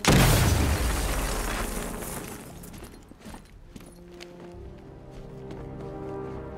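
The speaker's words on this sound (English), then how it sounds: "Get close and apply the explosive directly to destroy that wall." A wall blown apart by a placed explosive in Batman: Arkham Knight, a loud sudden blast at the start that rolls into crumbling, rumbling debris and fades to lower ambient game noise.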